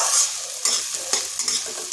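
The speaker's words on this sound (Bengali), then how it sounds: "তাই এই তেলের মধ্যে আমি ডালটাকে কিছুক্ষণ ভেজে নিচ্ছি।" Mung dal frying in hot oil in a pan, with a continuous bright sizzle and a few soft stirring scrapes, close and loud, no talking.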